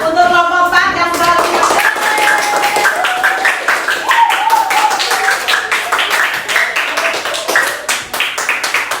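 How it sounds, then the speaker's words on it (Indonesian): A classroom of students applauds group 4: quick, dense hand clapping that carries on for several seconds, close and loud, with a voice over it at the start. "Kita kasih tepuk tangan dulu lah untuk kelompok 4 yang sudah"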